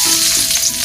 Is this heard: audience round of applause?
no